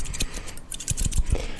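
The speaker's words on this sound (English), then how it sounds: "with barbershop scissors" Barbershop scissors snip close up in a quick, uneven series of crisp metallic cuts, about a dozen sharp clicks in under two seconds with no talking.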